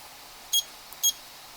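Two short, bright electronic beeps from a kitchen timer being set while sausage stuffing goes into the oven, spaced about half a second apart in a quiet room.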